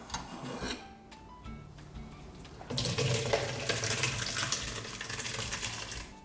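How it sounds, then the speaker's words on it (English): Boiled macaroni and its cooking water pour from a pot into a strainer in a kitchen sink, a sudden loud rushing splash that swells partway through and keeps gushing steadily, with some quieter clatter beforehand. "Now let's pour the mac and cheese down the strainer."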